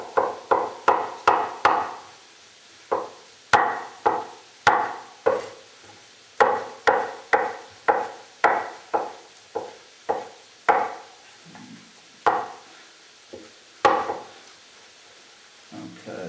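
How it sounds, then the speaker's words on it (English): A knife chops mushrooms into small chunks for pesto, striking a cutting board in quick rhythmic runs of sharp close knocks with short pauses between bursts. "Chop in slices first, and then we can just chop them into little chunks."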